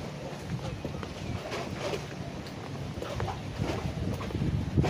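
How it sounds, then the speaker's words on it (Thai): Wind blowing along the Saen Saep canal, a continuous rushing buffet against the microphone with faint background activity and someone speaking over it. "ก็ตอนนี้ลมพัดเย็นสบายดีครับ"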